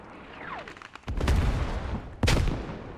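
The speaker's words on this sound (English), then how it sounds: "Waldo gets killed off by one of the grenades Nelly threw." Frag grenade blasts in the Squad military shooter game, two sharp booming explosions about a second apart, the second louder, with a faint whistling sweep before them.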